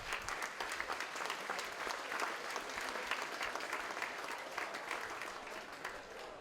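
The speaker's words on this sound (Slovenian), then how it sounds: "Za začetek pa en aplavz v zahvalo vsem sponzorjem" A crowd at a harvest festival claps steadily throughout, a dense patter of many hands at moderate distance that keeps an even level.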